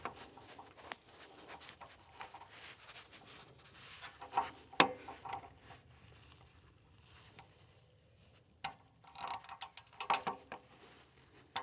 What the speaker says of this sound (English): So in this position, I'm pulling the socket to me to tighten it.